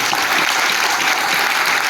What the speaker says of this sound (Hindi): एक बार जबरदस्त तालियों से इनका वेलकम करें